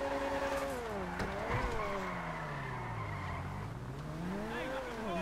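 A car in GTA V pulls away with its tyres skidding. A long squeal wavers in pitch over a steady engine drone, with speech mixed faintly underneath.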